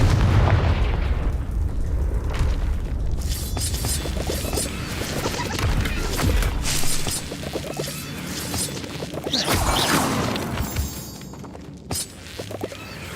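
Confringo spell blasts in Hogwarts Legacy, a series of loud booming explosions and crashing impacts with shattering debris, several bursts spread across the stretch, no voices heard.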